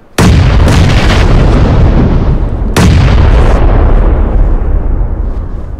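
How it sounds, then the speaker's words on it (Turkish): Two heavy bomb explosions in the battle royale game PUBG, each a loud close boom with a long rumbling decay, the second following a couple of seconds after the first. "Bombalar geliyor."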